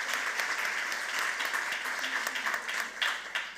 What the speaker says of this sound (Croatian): molim vas jedan veliki pljesak za vas koji ste najbolja publika na svijetu